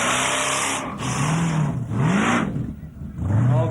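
Close and loud, a V8 engine fitted to a small Mazda revs repeatedly at Summernats, rising and falling in several throttle blips with brief dips between bursts.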